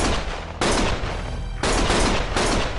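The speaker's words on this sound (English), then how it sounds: "Stop shooting!" Gunfire in the video game Lost Judgment, dense rapid bursts of shots in loud sustained volleys with a brief pause between them, close and overwhelming.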